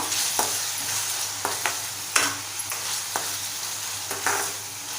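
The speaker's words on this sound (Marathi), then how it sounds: "टोमॅटो छान नरम होईपर्यंत आपल्याला परतवत राहायचं आहे" Salted tomatoes sautéing in a pan for spicy prawn rice, with a constant close sizzle and occasional scraping strokes of a spoon stirring through the mix, no voices.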